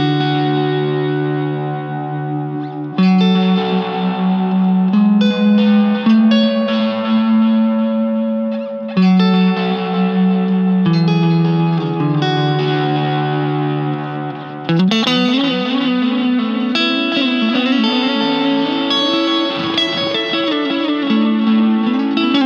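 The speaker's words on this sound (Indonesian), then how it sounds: "Saturation merupakan simulasi dari pita yang terkompres dengan kuat sehingga saat dimaksimalkan akan terdengar seperti repeatnya tuh terdistorsi" A guitar runs through a Boss RE-202 tape echo with saturation turned up, its chords ringing out into gritty, distorted repeats that swell and overlap continuously.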